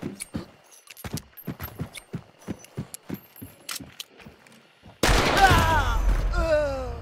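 Gunfire in a bounty hunt video game comes as a sudden loud burst with ringing echoes, preceded by a series of faint clicks and taps.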